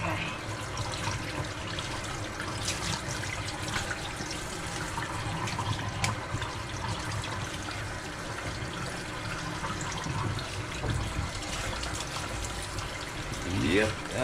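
Hot water runs steadily from a tap over a tie-dye shirt being rinsed out. It makes a continuous, even rushing hiss with faint splashing throughout.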